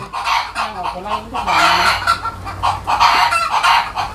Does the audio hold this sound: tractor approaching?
no